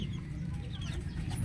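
A rooster clucks in a backyard where labuyo jungle fowl are raised, its calls close and continuous over a steady low rumble of outdoor noise.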